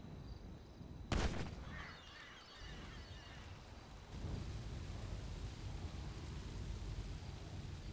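A single sharp gunshot cracks out loudly in a GTA V roleplay game, followed by a steady rumbling background of engine or ambient noise that swells slightly afterward.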